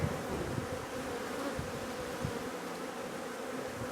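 Steady close buzzing of many bees around a hive, an even continuous drone with a few soft knocks beneath, no talking.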